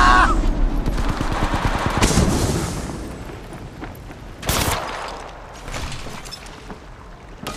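Bursts of gunfire in the mobile game Apex Legends Mobile crackle loudly in rapid volleys, with a dense opening stretch and a sharp burst midway, then trailing off into quieter rumbling.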